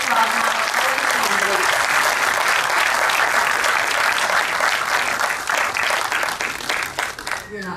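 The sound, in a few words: audience round of applause at forum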